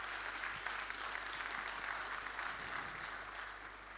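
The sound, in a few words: audience applause after a panel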